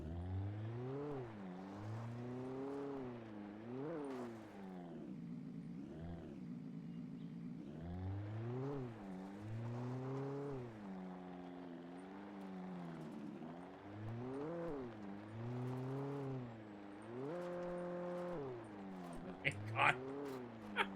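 A car engine in Alan Wake 2 revs up and down repeatedly, its pitch rising and falling in waves, steady and fairly loud with no pauses.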